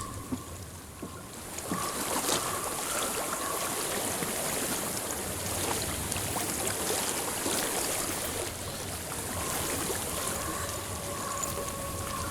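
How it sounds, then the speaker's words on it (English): Water flows steadily as a stream in the Hellblade: Senua's Sacrifice video game, a continuous rushing and trickling that stays at an even level throughout, with a faint tonal hum underneath. "I've reached the water."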